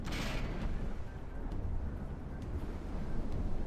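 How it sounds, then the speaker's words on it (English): Mortar fire in the naval battle game From the Depths rumbles as a continuous low, heavy roar with a sharp burst at the start and faint distant thuds, dense and loud with no voices. "These mortars, it's so rare we see them hit, so it's funny they do."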